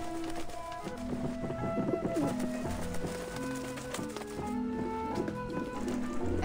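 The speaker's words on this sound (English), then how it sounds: "Now, we watch the pigeons!" Pigeons cooing in Grim Fandango, repeated low bird calls mixed with layered game music and ambient rumble, steady throughout.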